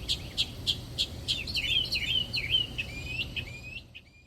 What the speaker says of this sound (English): Just around the corner, I found a secretary bird.